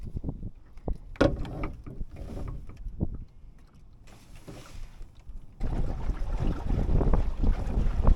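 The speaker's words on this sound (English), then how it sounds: "Here comes the wind." A wind gust roars across a Drascombe sailboat on a lake, a long broadband rush that swells and stays loud, with rigging and hull clatter in brief knocks under it.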